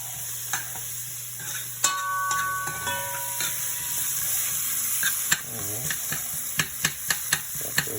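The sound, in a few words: sautéing vegetables sizzling in pot for pot roast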